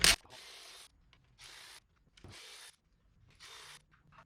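A ratchet turning stubborn bolts on a car throttle body that has never been removed gives four separate bursts of rapid clicking, each roughly half a second long with short pauses between, close and fairly clear, with no talk.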